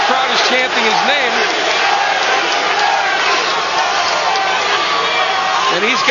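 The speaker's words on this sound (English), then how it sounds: "the crowd is chanting his name" A boxing arena crowd at a heavyweight fight chants loudly and continuously during the tenth round. The roar is dense and sustained, with a rhythmic chant running through the whole stretch.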